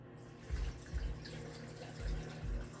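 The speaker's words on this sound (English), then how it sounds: "And so we're just going to get that added in. And I just use vegetable broth." Vegetable broth pours into a cooking blender jar in soft, low gurgling glugs that come in several brief surges, quiet and close.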